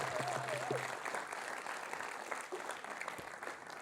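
A studio audience applauds Miss Indonesia on a television talk show: dense, sustained clapping from a crowd fills the whole stretch, with a brief tonal voice-like sound near the start.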